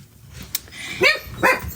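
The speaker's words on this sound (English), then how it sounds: "he's barking at somebody going out the door" A dog gives two short, sharp barks about half a second apart, close and fairly loud, at someone heading out the door, over low background hum.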